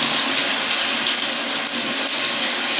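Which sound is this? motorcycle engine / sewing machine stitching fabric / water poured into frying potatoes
water poured into frying potatoes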